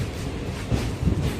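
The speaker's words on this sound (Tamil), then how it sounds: "நம்மளை இறக்கி விட்ட ட்ரெயின் அமிர்தா எக்ஸ்பிரஸ் இங்கிருந்து கிளம்பிருச்சிங்க." Amrita Express passenger train pulling out of Ramanathapuram station, a close, steady low rumble with soft rhythmic clunks of wheels over rail joints.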